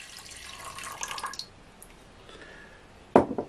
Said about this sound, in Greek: Θα βάλουμε 500 γραμμάρια καυτό νερό